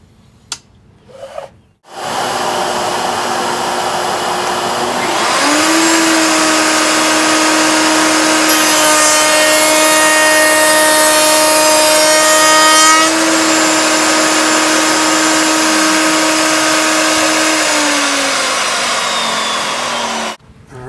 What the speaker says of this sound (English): Once I'm good, I'll know my router height is perfect, and we'll be ready to actually start machining all the pieces for the wall inside